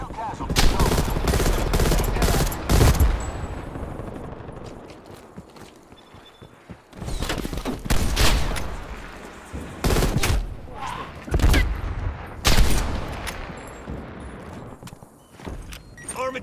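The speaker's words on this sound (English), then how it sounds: "Requesting artillery barrage." Artillery barrage in the Cold War–era shooter Call of Duty: Black Ops Cold War, a run of loud, close, heavy blasts in clustered bursts with rumbling gaps between impacts and no talking.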